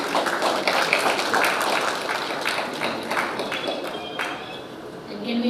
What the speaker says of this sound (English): Can we give him a warm applause?